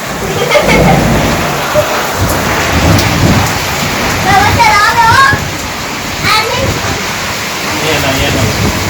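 Heavy downpour in Dhajala during peak summer, a dense steady roar of rain that runs the whole time, with voices talking and calling out over it.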